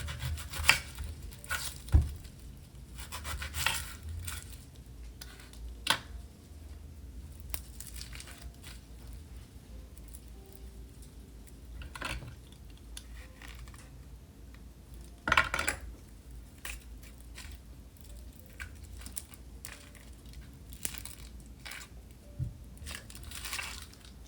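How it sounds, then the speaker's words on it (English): A knife chops and scrapes through a fresh onion on a cutting board in a home kitchen, giving soft irregular crunches and board taps at close range, with one sharper knock near the start and another midway. "Then we've got to cut up a fresh onion."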